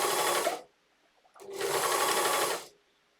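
A sewing machine stitches fabric pieces of a swimsuit together in two loud, steady bursts, separated by a short pause.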